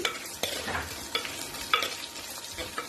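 Onions fry in a pan and are stirred, giving a soft, quiet sizzle punctuated by several quick utensil scrapes and knocks over a few seconds, close by, with no speech.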